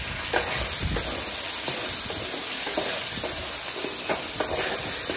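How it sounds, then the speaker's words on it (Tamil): Shallots, garlic, cumin and pepper sizzling loudly in a pan for pirandai chutney, a steady close frying hiss with occasional soft stirring scrapes, no talk. "பூண்டு இந்த சீரகம் மிளகு போட்டு நல்லா வதக்கிக்கணும்"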